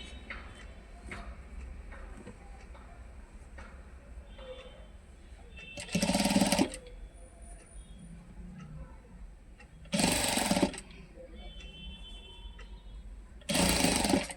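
An electric sewing machine stitches the side seam of a ready-made top in three short, loud whirring bursts separated by quieter pauses, with faint background noise between runs.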